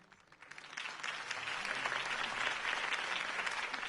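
A crowd at a campaign speech in the video game Batman: The Telltale Series breaks into applause. The clapping swells from quiet to a dense, steady roar and holds for several seconds without talk.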